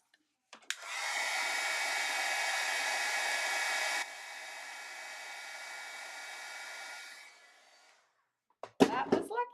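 A heat tool used for heat-setting embossing on a card blows a loud, steady whoosh for about seven seconds, drops to a lower setting partway through, then switches off, followed by brief clattering handling noises.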